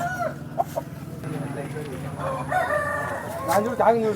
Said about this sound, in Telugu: చాలా బలంగా ఉన్నటువంటి కోడిపుంజు